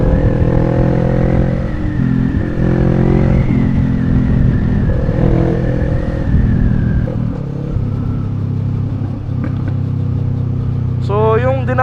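A big bike's muffler exhaust drones steadily while riding through city streets in Intramuros, a continuous loud engine rumble with shifting pitch, and a rising whine near the end.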